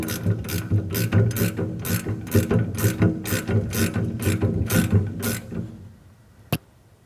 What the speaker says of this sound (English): Now tighten down the bolt with a pair of wrenches.